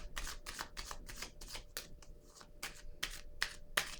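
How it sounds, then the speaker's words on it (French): A tarot card laid down among others gives a rhythmic series of crisp, close papery snaps and rustles, about a dozen quick bursts with short gaps, alone and without talk. "je vais déposer une carte encore dans cette zone."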